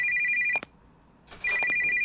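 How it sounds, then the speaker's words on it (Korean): A telephone rings loudly in a horror video game: an electronic trill that stops after about half a second, falls silent briefly, then starts ringing again, with faint clicks in the pause. "전화가 왔어."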